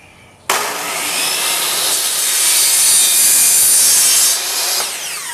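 A saw trims a piece of wood for a homemade green-screen light stand. It cuts in one loud, continuous, rasping stroke run that starts abruptly and then eases off near the end, close up with no talking.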